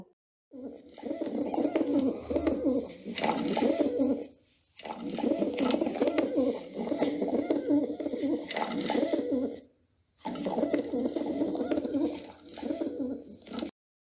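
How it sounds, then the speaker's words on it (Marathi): Low, rolling pigeon coos repeat in three long bursts separated by short pauses, close and fairly loud, with no voices. "कबूतर. हे कबूतर आहे."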